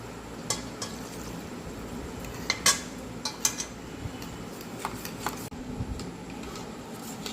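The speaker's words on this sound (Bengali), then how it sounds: "এবার আমি দুধটা অল্প অল্প করে দিয়ে দইটার সাথে মেশাবো।" A spoon works milk into yogurt in a bowl for homemade curd, giving soft scattered clinks and scrapes over a low, even background.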